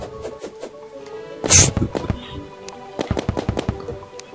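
Rapid bursts of gunfire from a fast-shooting weapon in the video game Terraria, a quick irregular run of sharp cracks with one heavier blast near the middle, fairly close and loud.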